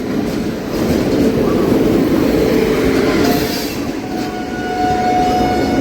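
A train hauled by WAP-7 electric locomotive 30778 rolls in with a loud continuous rumble and rattle, a thin wheel squeal and brief tonal whine rising near the end, close by at a platform.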